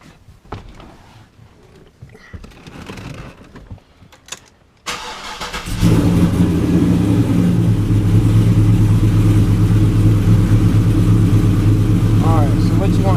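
A Trailblazer SS engine, freshly fitted with a rebuilt performance transmission, starts after a few seconds of quiet shuffling and then runs loudly and steadily close by, a sustained idle drone with slight rev changes as it is shifted through the gears.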